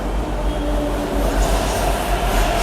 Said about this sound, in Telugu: చూడండి రైలు కూడా వచ్చేసింది.